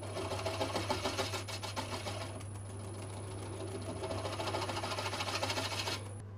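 Wood lathe spinning a bowl held in a chuck while the tenon is turned off, giving a steady motor hum with tool scraping against the wood, close and continuous.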